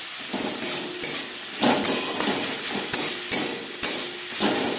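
Ginger paste and garlic frying with onions in a pan for egg curry, a loud steady sizzle and hiss broken by regular clanks and scrapes of a spatula stirring, with no voices.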